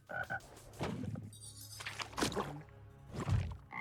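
Croaking from the frog boss in Death Must Die: several loud, throaty croaks spaced irregularly over a few seconds, mixed with short game effect bursts and no talking.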